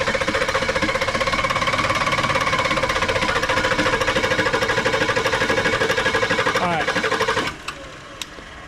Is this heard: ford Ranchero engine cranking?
yes